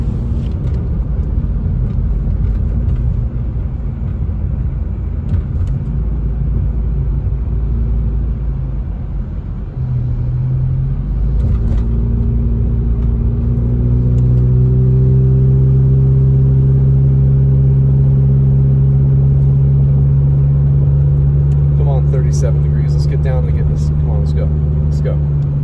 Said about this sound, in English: this is the last thing that they want to deal with, is traffic at 11:15.